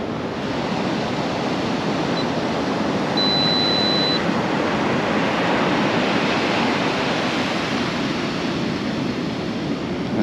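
Ocean waves roll in at Aireys Inlet on a moody morning, a loud, steady, broadband wash of surf that swells and hisses continuously with no break and no voices.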